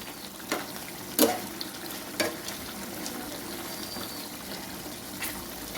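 Food fries gently in a pan with a soft, steady sizzle, broken by a few light scraping and clinking stirs from a utensil at close range.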